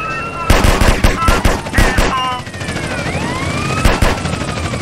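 Bursts of machine gun fire in a GTA San Andreas drive-by, loud and near, with several rapid volleys against a busy backdrop of traffic and a passing siren-like whine.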